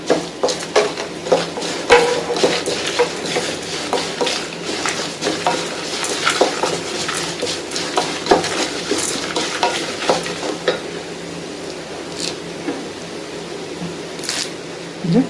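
Dried red chillies broken into small pieces fry in oil for a traditional sesame gravy, giving a steady crackling sizzle with frequent sharp pops and stirring scrapes, close and fairly loud throughout.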